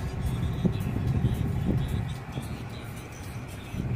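A car moves slowly in spring with a learner at the wheel, giving a low, steady engine and road rumble from inside the cabin with faint sounds in the background.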